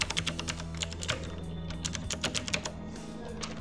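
Rapid, uneven keystrokes on a computer keyboard while an account is filled in on a hosting website, with close, crisp clicks in quick bursts over a low steady hum.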